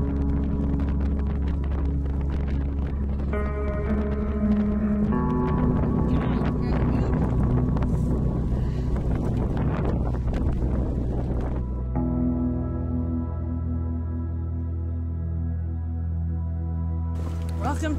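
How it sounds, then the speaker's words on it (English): Strong headwind gusts buffet the microphone during a bikepacking ride in Southland, New Zealand, a loud constant rumbling roar lasting throughout, with faint tonal hums beneath it. "It's a pretty intense wind."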